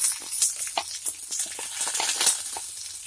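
Chopped onions fry in a pan while making chana dal with spinach, giving a steady soft sizzle with small crackles and occasional clinks of stirring, close and moderately quiet.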